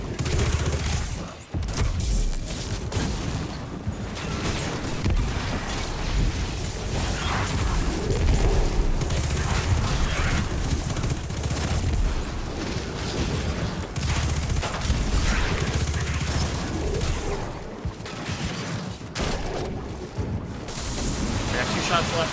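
Sustained heavy gunfire from a firefight in Destiny 2 The Witch Queen, with rapid overlapping shots, impacts and whooshes, plus voices talking over the fighting.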